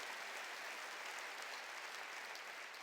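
A church congregation applauds in a steady, dense wash of clapping that holds evenly throughout, heard faint and from a distance with no speech over it.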